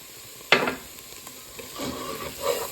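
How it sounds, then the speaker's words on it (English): A spoon stirs a tablespoon of flour into onions sizzling in a pan over lowered heat for vegetarian French onion soup: one sharp scrape, then a quiet frying hiss with softer stirring scrapes, close up and without talking. "And now we're just going to add our tablespoon of flour."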